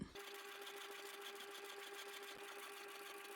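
A sewing machine runs steadily while stitching fabric for a DIY wallet, a close, even motor hum with fast needle ticking throughout and no voices.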